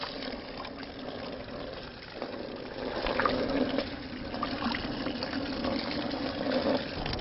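Water sprays through a sieve to rinse soil sediment, giving a soft, steady hiss and trickle that swells slightly midway and runs on quietly without talk.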